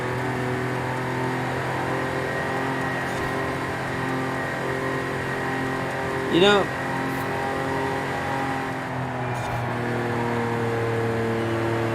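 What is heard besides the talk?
1982 DeLorean DMC-12 engine revving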